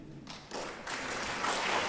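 A live studio audience at a radio show breaks into applause, the clapping building in stages from a quiet start into a dense, sustained round.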